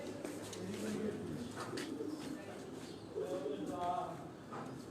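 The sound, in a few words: pigeon cooing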